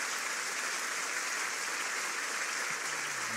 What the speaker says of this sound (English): please join me once again in giving a round of applause